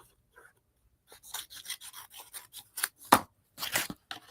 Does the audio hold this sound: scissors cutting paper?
yes